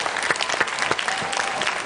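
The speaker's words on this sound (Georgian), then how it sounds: "აპლოდისმენტები." A television studio audience claps for nearly two seconds, a dense burst of applause with no voices over it.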